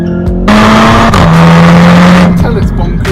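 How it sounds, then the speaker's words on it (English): A VW Golf R's engine revs hard and close, its pitch stepping down and back up as it drops through the gears in race mode, loud throughout. "drop it down through the gears."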